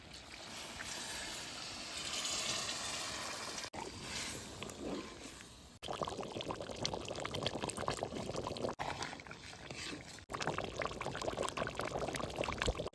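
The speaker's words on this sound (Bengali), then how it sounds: "মাংস ভালো করে কষানো হয়ে গেছে এখন জল দিয়ে দেবো" Water being poured into a pot of cooked, well-fried duck meat for curry, a continuous close gush and splash that stops and restarts several times, with no talking.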